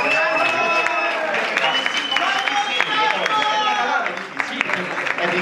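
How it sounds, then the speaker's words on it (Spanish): Audience applause and cheering for Carmo Madeira and Tear Shmaya's hand-to-hand acrobatics act, a steady roar of clapping mixed with crowd voices and whoops, dipping briefly near the end. "Fuerte el aplauso para el Carmo y el Tears."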